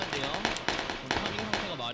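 Gunfire in the PUBG battle royale game crackles as a run of sharp, repeated shots with irregular spacing, partly masked by people talking over it.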